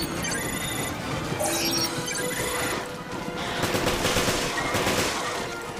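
Pistol gunfire in the video game Resident Evil Revelations, dense bursts of shots and crashes over a busy game soundtrack, fairly loud and continuous throughout.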